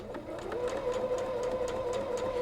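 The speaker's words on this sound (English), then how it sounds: "and then we are going to go to our sewing machine." A sewing machine stitches a 1/4 inch seam through quilt fabric, a steady close whirring motor with a fast regular needle ticking that runs without pause.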